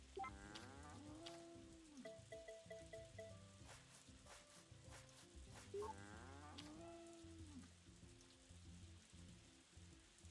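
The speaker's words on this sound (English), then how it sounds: "Just a cow I wanted to talk to." A farm cow moos in Story of Seasons: A Wonderful Life, a farming video game. Two drawn-out moos come near the start and again around the middle, over soft game music with plinking tones.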